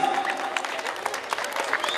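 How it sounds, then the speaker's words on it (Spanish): Crowd applause at a village fiesta for San Lorenzo in San Francisco, near Silao, Guanajuato: steady, dense clapping from many hands, fairly loud and continuous throughout, with a few sharper claps standing out. "Que siga bien fuerte el aplauso para el señor San Lorenzo."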